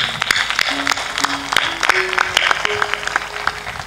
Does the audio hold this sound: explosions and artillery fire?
no